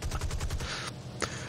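A tail gunner's machine gun fires in War Thunder, a quick rattling burst of close shots followed by one sharper report after a short gap.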